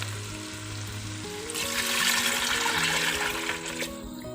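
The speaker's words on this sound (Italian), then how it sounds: "e adesso aggiungo l'acqua." Water is poured into a pan of sautéing couscous ingredients, producing a steady, loud rushing hiss and sizzle that swells midway and continues over a low kitchen hum.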